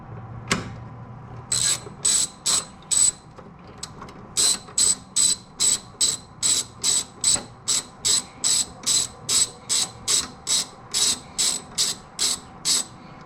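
A ratchet wrench with a 17 mm socket loosens a bolt during a coilover install on a 2022 Toyota GR86, giving loud, close, regular bursts of rapid pawl clicking, stroke after stroke with short gaps.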